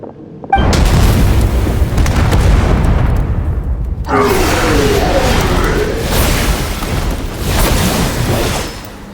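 Cannon fire and explosions in the video game Genshin Impact: a sudden heavy boom followed by a long rumbling roar, then a second wave of blasts and debris, loud and sustained.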